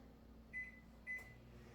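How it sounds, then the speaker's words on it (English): A microwave oven hums steadily while melting butter for banana bread mini muffins, with two short clear beeps close together near the middle and no talking. "Just gonna pop that in the microwave for about 20-25 seconds"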